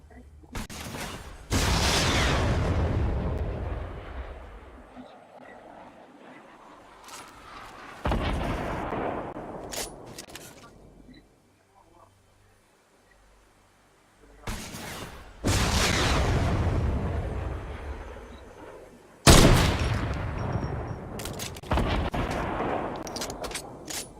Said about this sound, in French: J'ai entendu une balle de snipe.